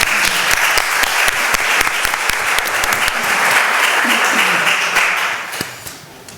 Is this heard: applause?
yes